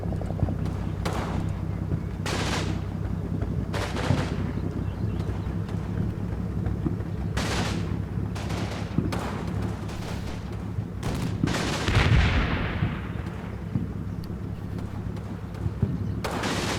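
A heavy machine gun fires in the Combat Mission Normandy video game, in several separate short bursts over steady background rumble and wind, with a louder boom near the end.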